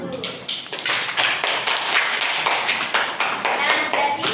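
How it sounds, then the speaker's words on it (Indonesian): A class of students claps together in a steady run of quick, sharp hand claps lasting several seconds, close and loud, with no talking over it. "Tepuk tangan dulu."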